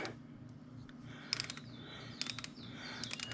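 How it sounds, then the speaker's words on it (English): A wrench ratcheting as it tightens a bolt on an Indian Roadmaster motorcycle, three short bursts of quick metallic clicks spaced about a second apart, close and crisp over a low background hum. "What I'm talking about is using a wrench to tighten this thing down."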